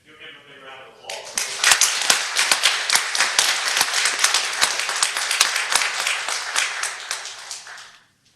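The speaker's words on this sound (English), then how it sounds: "You'll give her a big round of applause." A room at a city council meeting in Greer, South Carolina breaks into a round of applause after a short spoken lead-in, with sharp, close individual claps over a dense bed of clapping that stops abruptly.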